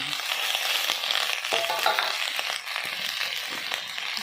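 Eggplant and onion stalks fry in a pan with a dense, continuous sizzle up close, broken by light stirring scrapes and clinks.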